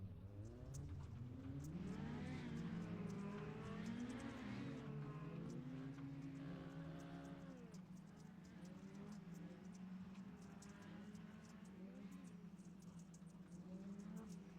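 Engines of dirt mini stock race cars, around 200 horsepower, rev and drone in an iRacing race at I-55, a layered buzzing hum whose pitch rises and falls as the cars accelerate, fairly faint and steady throughout.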